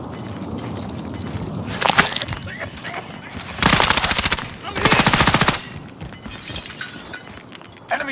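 A double SMG fires in a battle royale video game, with scattered single shots and then two long, rapid, loud bursts separated by a short pause, over a busy background of game noise and faint voices.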